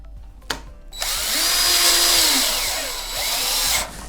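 A power drill drives 1/4 inch structural screws into a wooden floor joist being sistered, whirring loudly and close for about three seconds with a slight pitch dip, then stopping as the screw snugs up.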